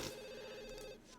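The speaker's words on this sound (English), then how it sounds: "the phone's ringing again" A phone rings in The Sims 2, a short electronic trill repeating in a tight rhythmic burst, clear and close but quiet, trailing off after about a second.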